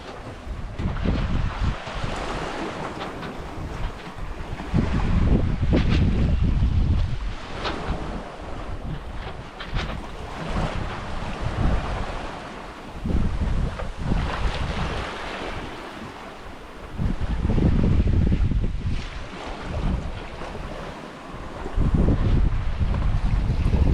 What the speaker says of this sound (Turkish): Yağmur şiddetini arttırdı. Çok kuvvetli yağmur yağıyor.